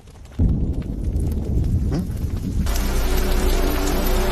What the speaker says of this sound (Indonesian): Ia menggunakan bejeb-bejeb alias mantra yang membuat hujan deras seketika turun mengguyur area tersebut.